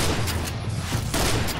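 Rapid gunfire in the shooter game Point Blank, a dense burst of close shots running continuously for a moment.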